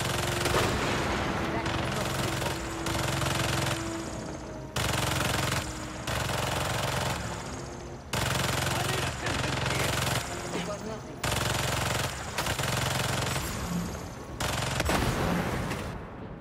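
Automated turrets in the Spider-Man 2 video game fire long bursts of rapid gunfire at a secret hunter base, loud bursts broken by short pauses, with game noise underneath.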